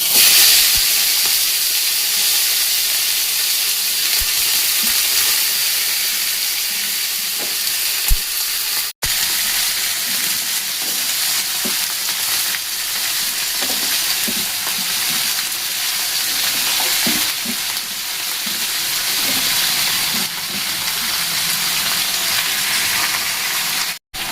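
Brinjal, pumpkin and radish frying in hot oil on a gas flame, a loud continuous sizzle and hiss that holds steady with brief stirring knocks, no one talking.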